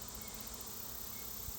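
Honey bees buzz in a soft, steady swarm hum while being brushed off a honeycomb frame, many wings droning close together without break.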